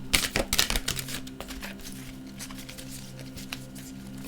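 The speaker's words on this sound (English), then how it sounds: "These cards are considerably larger than what I'm used to, so shuffling is also more difficult." Large tarot cards being shuffled by hand, with a cluster of quick, crisp flutters and slaps early on, then softer intermittent card rustles close to the listener.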